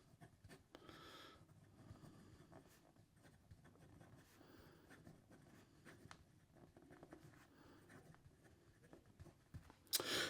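A broad-nib fountain pen, closer to a medium broad, writes on paper in a run of faint, close scratchy strokes and taps over a quiet background.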